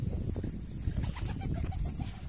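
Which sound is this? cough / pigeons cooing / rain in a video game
pigeons cooing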